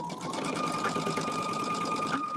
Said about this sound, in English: I'll flip this and I'll sew on the other side.